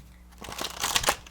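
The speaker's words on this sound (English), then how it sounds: "So let's see, rifle shuffle." Thin, long, flexible cardstock playing cards being rifle shuffled: one brief, close, fluttering burst of riffling edges.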